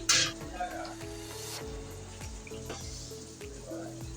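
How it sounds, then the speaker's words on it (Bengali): Beef simmering in a pan for white bhuna after hot water has been added, giving a steady close sizzle with soft bubbling and faint utensil clinks throughout. "এই তো গরম পানি অ্যাড করে দিয়েছি"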